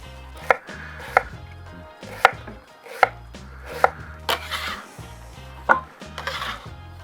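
A knife slicing an onion into thin slices on a wooden board, with about nine crisp, fairly regular chops heard up close.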